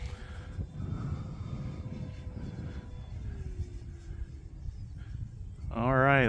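An FMS P-47 Razorback RC model airplane does a touch and go at a flying field, its engine whine droning and dropping in pitch as it passes, moderately distant, with a brief voice at the end.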